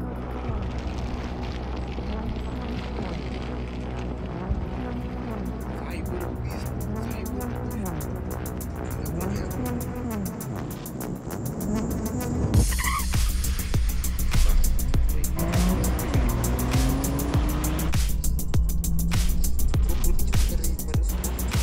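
A Tesla Cyberbeast drag races a Porsche 911, heard as a continuous, fairly loud broadband whoosh of vehicle noise that shifts abruptly partway through and grows louder, with voices and other sound layered over it.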